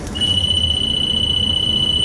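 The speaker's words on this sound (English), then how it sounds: "That noise you hear now, that chirping, is my low air warning." A truck's low air pressure warning sounds as a steady, high-pitched electronic chirping tone, continuous over a low engine idle, close and unbroken.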